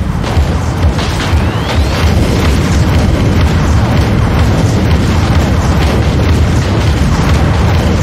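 Ship weapons firing and exploding in the Dreadnought video game: a dense, continuous roar of booming blasts and rumbling detonations, loud and close, with no clear gaps and no talk.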